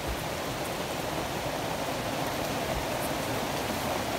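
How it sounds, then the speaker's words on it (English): Steady, soft hiss of rain falls continuously, an even wash of noise with no voices. "It's raining."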